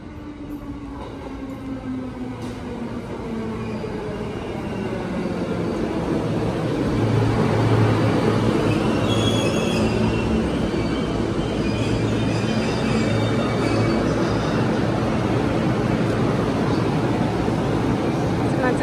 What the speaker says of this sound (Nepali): यहाँ चाहिँ ट्रेन आउँदैछ कावासाकी जाने